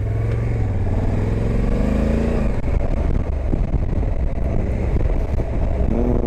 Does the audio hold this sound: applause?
no